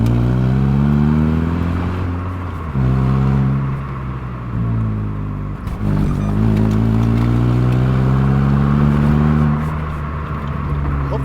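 Stock-muffled Honda Fit with an exhaust leak revving repeatedly, its pitch climbing and dropping in long sweeps. The engine is loud and close, with a rumbling, buzzy drone throughout and no voices.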